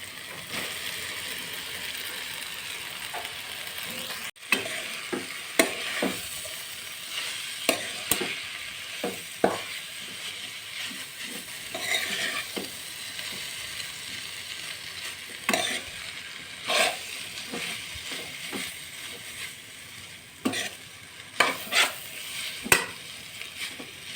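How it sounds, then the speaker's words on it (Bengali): Street-style Assam chowmein with Maggi masala, tossed and mixed with two forks in a hot pan: a steady sizzle broken by repeated sharp metallic scrapes and clinks in an uneven rhythm, close and alone without speech. "এখন আমি এই কাঁটা চামচ দুটোর সাহায্যে ভালো করে মিক্স করে নেব এইভাবে।"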